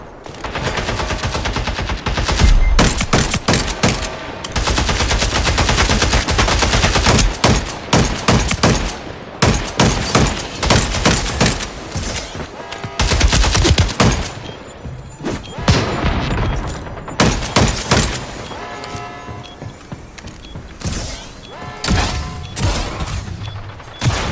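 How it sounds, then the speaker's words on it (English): A firecracker set in the ground goes off as a long, loud string of sharp rapid bangs and crackles, bursts bunching and thinning over many seconds with a few heavier booms. "They just lit a firecracker."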